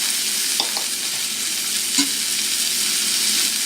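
Butter sizzles and fries in a hot pan alongside pork chops, a steady close crackling hiss with a few faint clinks of stirring.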